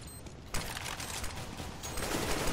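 Rapid automatic gunfire in Counter-Strike: Global Offensive crackles continuously through a noisy match, a dense fusillade of shots that grows louder toward the end, heard without speech.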